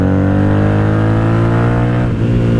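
A 1997 Honda Magna VF750C cruiser riding down a highway at night, a loud steady engine drone with strong harmonic tone and wind rush, held at constant speed close to the rider.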